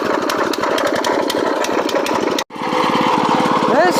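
A small tiller engine that had been smoking runs with a slight abnormal noise, giving a loud, close, steady chugging beat. The sound cuts out briefly midway, then resumes.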